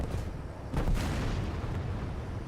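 A teammate's tank cannon firing in War Thunder, one booming shot landing just under a second in, with its rumble trailing off over steady battle noise.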